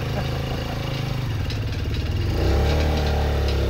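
Motorcycle engine running steadily nearby, a dense low rumble that grows slightly louder and deeper partway through, with no speech over it.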